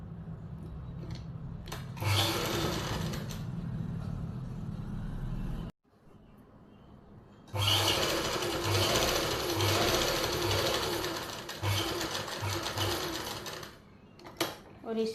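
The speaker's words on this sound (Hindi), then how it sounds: "बिल्कुल ही किनारी के ऊपर से सिलाई लगाएंगे हम इसकी" A sewing machine runs close and loud, stitching along the edge of a palazzo pant lining in a boutique, in two long bursts split by a brief stop near the middle, with a few short clicks near the end.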